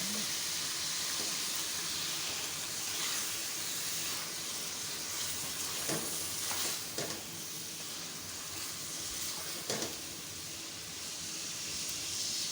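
Chopped tomatoes go into a pan of sizzling mutton keema, giving a steady, fairly loud frying hiss with a few brief crackling bursts throughout.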